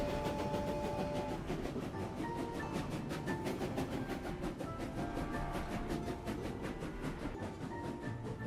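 A train in the video game Clair Obscur: Expedition 33 rolls steadily past with a loud, continuous rumble and regular clacking that keeps going without any voices.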